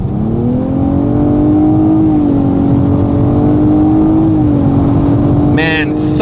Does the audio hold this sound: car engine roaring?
yes